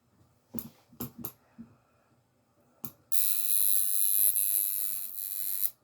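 A few short knocks and taps, then a loud high-pitched electric buzz from a tattoo gun starts and runs steadily to the end.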